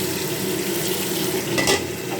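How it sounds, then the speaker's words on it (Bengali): Poppy seed paste frying in a pan, a steady close sizzle with light stirring scrapes throughout and a brief louder burst near the end. "এই করে করে ভেজে ভেজে পেস্টটা বেশ ভালোই হয়ে যাবে"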